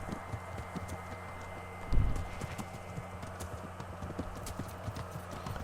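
Horse hooves clip-clop at a steady walking rhythm in the medieval game Kingdom Come Deliverance, close and even, with one heavier thud near the middle and a soft ambient bed underneath.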